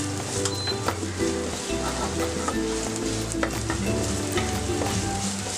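Onion sautés in a pan with oil for a bread and egg snack, a continuous close sizzle with crackling pops and occasional stirring, no talk.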